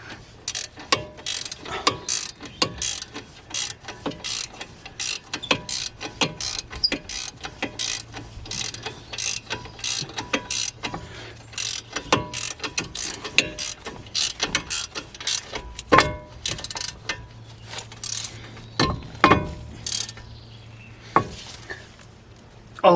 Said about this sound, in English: thank God for ratchet spanners and socket